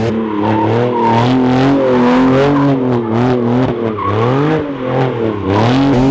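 A Porsche spins doughnuts, its engine revving hard in sweeping rising and falling tones while tires squeal and skid continuously, loud and close throughout the six seconds with no voices.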